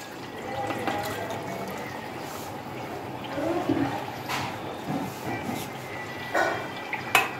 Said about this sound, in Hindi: पानी हमने 3 गिलास ये डालने हैं